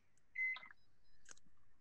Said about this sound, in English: The beep of the microwave was echoing.